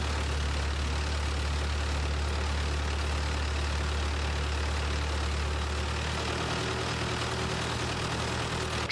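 A tractor engine runs steadily with a low, continuous rumble while forestry workers load firewood, a constant near drone with no pauses and no talk.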